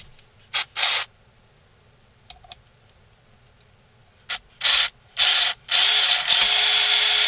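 A screw is driven to fasten a hat onto a carved wooden ventriloquist dummy, heard as short whirring bursts from a power driver that grow longer, with a sustained final run, in a quiet workshop.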